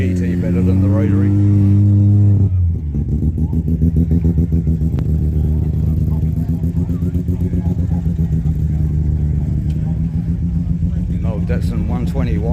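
A small rotary-engined car idles at a car rally, its steady buzzing rumble close and loud, starting with a brief rev before settling into an even, busy idle.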